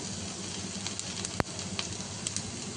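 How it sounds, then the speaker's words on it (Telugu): Ginger garlic paste fries in a pan with a steady, dense close-up sizzle and a single sharp clink partway through. "అల్లం వెల్లుల్లి పేస్ట్ వేసుకొని కొద్దిగా పచ్చివాసన పోయే వరకు ఫ్రై చేసుకోవాలి"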